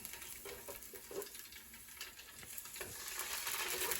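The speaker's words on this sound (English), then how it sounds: "We have our pan heated up, and we're gonna start sauteing." Salmon sautes in a preheated pan for a Tuscan butter dish, a soft continuous sizzle and crackle with a few light scraping and tapping sounds, fairly quiet throughout.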